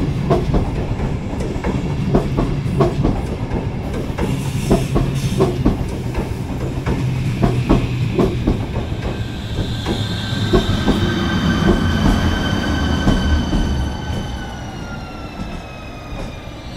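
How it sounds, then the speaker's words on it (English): A Škoda-built six-car double-decker push-pull regional express train, inbound from München Hauptbahnhof, rushing past close by at speed with a steady loud roar, rhythmic wheel clatter over rail joints and rising whining tones as it passes. "Here comes our almost high-speed regional train,"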